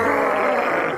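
An older anime version of the Haxorus Pokémon cry: a single sustained, rasping growl-roar lasting about a second, loud and close, with no talking.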